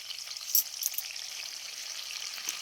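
A bay leaf and a cardamom pod sizzle in hot oil as a quiet, steady fizz, with a couple of small pops near the start.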